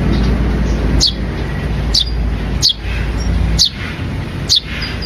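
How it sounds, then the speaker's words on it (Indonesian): Eurasian tree sparrow chicks from a nest in a pine tree give five sharp, high chirps at roughly one-second intervals, close and clear over a steady low background hum. "Ini anakan burung gereja pohon."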